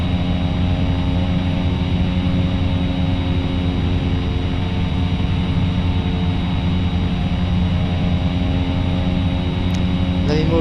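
A Cessna's propeller engine drones steadily in flight, a loud, unbroken hum with a constant pitch that holds for the whole stretch, with nobody speaking over it.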